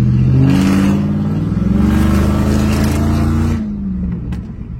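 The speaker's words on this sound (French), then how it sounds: "j'ai jamais entendu une voiture qui faisait autant de bruit" Very loud car engine revving hard and accelerating up close, a deep roaring drone that holds steady before dropping away near the end.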